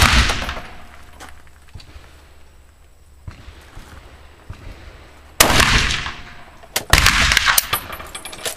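An SKS 7.62x39 semi-automatic carbine from 1945 fires outdoors, two sharp loud reports a little over a second apart with an echoing tail, after a quieter stretch of faint handling noise.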